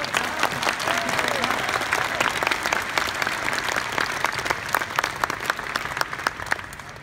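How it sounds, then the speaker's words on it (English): An audience on the Dr Who Festival 2015 stage gives sustained applause, a dense crowd of clapping hands that carries at an even level for several seconds and tapers slightly at the end, with a voice briefly heard beneath it. "Please give a huge round of applause to Harry from Dartford."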